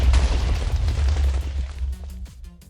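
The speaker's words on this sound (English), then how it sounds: "I guess it makes an explosion" Explosion in the Minecraft modpack Project Ozone 3: a loud, deep booming blast with rumbling low end that decays over a couple of seconds into scattered crackling pops, with no talk.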